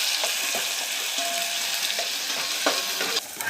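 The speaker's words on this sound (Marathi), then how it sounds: "परत तेलामध्ये मसाला टाकायचा आहे." Masala spices sizzle and fry in hot oil in a pan for a Vidarbha-style soybean vadi curry with dark gravy, a steady close crackle with a few sharper pops and stirring scrapes.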